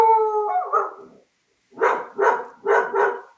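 A dog in an office gives a drawn-out howl, then after a short pause four evenly spaced barks, fairly close and clear with no talk over them.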